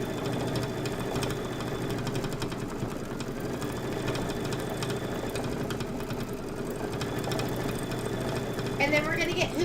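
An embroidery sewing machine stitching a quilt design runs with a steady, fast mechanical whir and rapid needle clatter, continuous and close, with a voice talking faintly over it.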